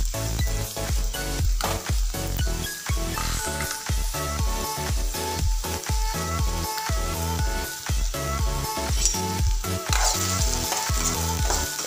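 Onion, green chilli and garlic fry in hot oil, giving a loud, steady sizzle with crackling bursts that continues without a break throughout, and no talk over it.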